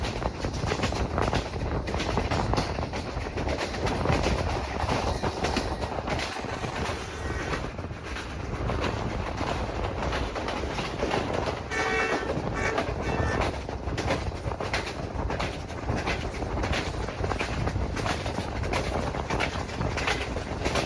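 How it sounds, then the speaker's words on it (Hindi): Awam Express passenger train running at high speed between Rawalpindi and Peshawar, a steady loud roar of wheels and rails heard from on board, with a constant rumble and faint clatter throughout. "ट्रेन की स्पीड बहुत ज़्यादा हो चुकी है"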